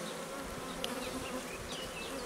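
Honeybees hum in a dense, continuous buzz over an open hive during an apiary inspection, close and steady, with a few individual bees passing near.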